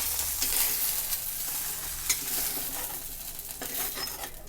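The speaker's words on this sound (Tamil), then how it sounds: "இந்த வெண்டைக்காய் அதில் போட்டுக்கலாம். நல்லா வதக்கலாம்." Okra sautéing in a frying pan, a steady close sizzle of frying with stirring scrapes and light clinks of a utensil against the pan throughout.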